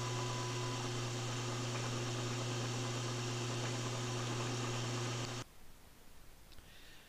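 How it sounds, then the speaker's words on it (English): Electric lead screw equipped lathe running as its carriage retracts the tool and traverses back to the start position, a steady loud motor hum and whine with faint mechanical hiss, cutting off abruptly near the end to quiet room tone. "you will see the X position move outward to the retract position, and then the tool will move to the right back to the beginning position"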